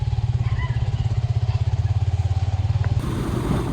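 A motorcycle engine chugs steadily up close in a fast rhythmic putter while riding to a fair, then shifts to a rougher, louder rev near the end.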